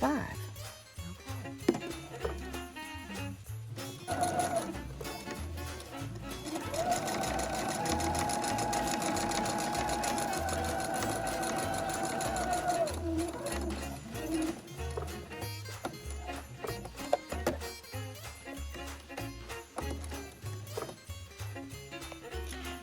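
Sewing machine running a continuous stitch along the edges of Christmas napkin fabric at a slightly longer stitch length, a steady mechanical whir with brief stops and restarts at the corners, close and clear.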